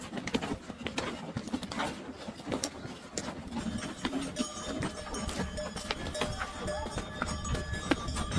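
Donkeys laden with belongings and other livestock move along a mountain migration path with Iranian nomads, their hooves giving an irregular stream of soft clip-clops and scuffs over steady outdoor rumble, with faint voices now and then.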